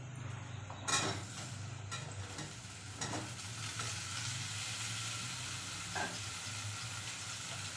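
Pumpkin and green chilies sizzle with bitter gourd in a pan, a soft steady frying hiss with a few sharp spatula knocks and stirs, heard alone at low volume.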